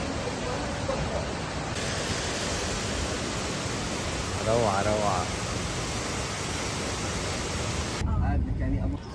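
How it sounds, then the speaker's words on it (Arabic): Ouzoud waterfalls in Morocco pour with a loud, steady broadband rush that fills the clip, and a person speaks briefly over the roar midway. "شلالات أزود."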